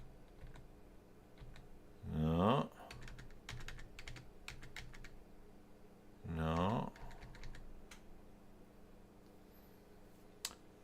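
Light, rapid keystrokes on a computer keyboard clatter in scattered bursts, with a voice speaking briefly twice over the quiet tapping.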